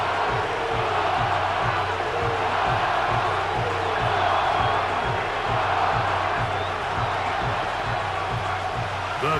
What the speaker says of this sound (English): crowd cranking it up another notch before 3rd and long.